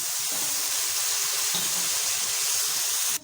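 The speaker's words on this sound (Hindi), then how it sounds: "थोड़ा सा पानी डाल देते हैं।" Water pours and hisses loudly into a hot pan of rice seasoned with red chilli, turmeric and salt, a continuous bright sizzling rush that cuts off abruptly at the end.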